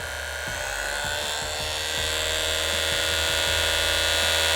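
A handheld vibration sander (TA-01-540) runs at its second speed, a steady close buzzing drone with a faint rhythmic pulsing, loud and alone without voices.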